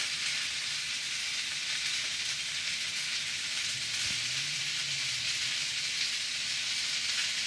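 A cheese-topped burger patty sizzles on a hot griddle as a steady, dense frying hiss, close and continuous, with a faint low rumble partway through.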